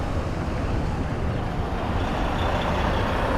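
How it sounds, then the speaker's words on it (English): A large truck turns through street traffic in midtown Manhattan, a steady heavy engine rumble with hissing broadband noise that holds evenly throughout, with no talk over it. "I hope that truck is not turning."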